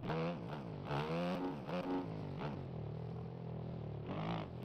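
A KTM motocross bike in a racing video game on a motocross track, its engine revving high and rising in pitch as it accelerates, loud and continuous with no talk over it.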